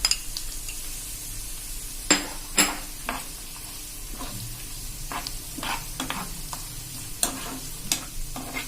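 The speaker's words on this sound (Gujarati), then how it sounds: "આને આપણે મીડિયમ ફ્લેમ ઉપર લાઈટ સેજ જેવું થાય ને બ્રાઉન ત્યાં સુધી જ આપણે આને શેકવાનું છે" Grated fresh ginger roasts in a pan over a medium flame with a soft, steady sizzle, broken by several sharp scrapes and clinks from a spoon stirring against the pan.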